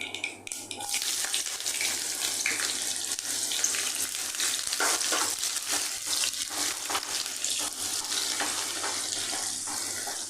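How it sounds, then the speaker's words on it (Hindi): Thinly sliced large onion frying in hot oil with cumin and mustard seeds, a steady close sizzle and crackle running throughout with faint scraping. "तो इसी साथ हम डालेंगे एक बड़े साइज की प्याज, जिसे इस तरह से पतला पतला काट लेना है। इसे हम फ्राई करेंगे।"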